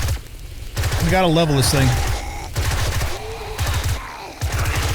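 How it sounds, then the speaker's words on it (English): Machine gun fire rattles in the video game 7 Days to Die, with rapid bursts of shots under and between a man's speech. "if I use the machine gun, we're going to get some XP, but we're going to lose so much ammo"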